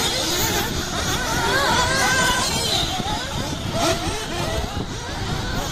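A small high-revving nitro engine buzzes and sputters unevenly, its pitch wavering as it stumbles and misfires, with voices talking over it.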